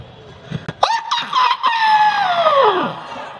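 A man imitates a rooster crowing at dawn with his voice: a few short sounds come first, then one loud, long crow that swoops up and slowly falls away.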